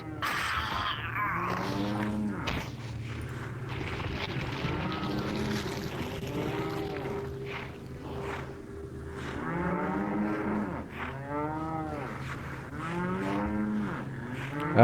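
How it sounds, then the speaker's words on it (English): Cattle mooing in the Resident Evil 4 video game, several long low moos rising and falling over a steady hum of game ambience, with louder calls repeating later on. "Do the cows still charge and kick your ass in this?"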